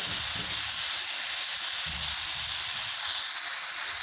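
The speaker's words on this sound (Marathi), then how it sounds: "ह्या लोखंडाच्या भांड्यामध्ये आज मी पेरूची भाजी करत आहे" Guava vegetable curry (peru bhaji) sizzles steadily in an iron pot, a constant bright frying hiss with faint low stirring knocks underneath and no talking.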